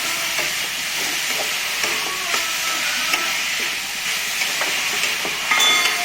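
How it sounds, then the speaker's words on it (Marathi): Cabbage kachori filling sizzles in a pan over a medium gas flame while being stirred, a steady loud frying hiss with faint scraping and small clicks running underneath. "मी ही कोबीची कचोरी केली म्हणून मस्त हलवून घेऊया आपण"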